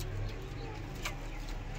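Soft, low pigeon cooing repeats in a brief murmuring rhythm, close by, over a steady background hum.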